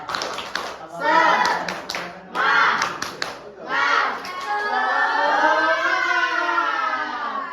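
A school class performs the 'tepuk semangat' clapping chant: bursts of rhythmic group clapping alternate with children's shouted chant lines, ending in a long sustained group shout, fairly close and lively.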